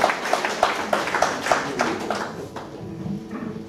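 Audience applause for a singer at a Vietnamese soldiers' variety show, steady scattered clapping with rhythmic claps standing out, fading after a few seconds.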